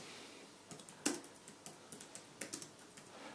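Typing on an Ultrathin Keyboard Cover, a run of crisp, close key clicks in an uneven rhythm, with one louder keystroke near the start and quiet gaps between taps.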